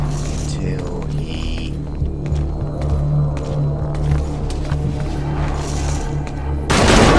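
Gunfire in the video game Metal Gear Solid 5: The Phantom Pain, sharp shots cracking through a constant low droning hum and busy game noise, followed by a louder swell of sound near the end.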